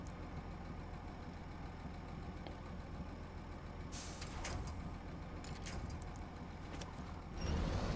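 Western Star 6900 Twinsteer truck engine in the SnowRunner video game, a steady low rumble running throughout with occasional higher rattles and hisses, louder toward the end.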